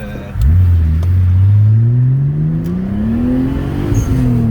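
A Nissan Skyline R34 GTT engine revs up under acceleration, rising from a low droning note into a climbing, loud, close growl inside the car, with no talk over it.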